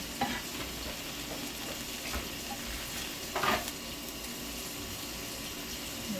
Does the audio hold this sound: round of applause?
no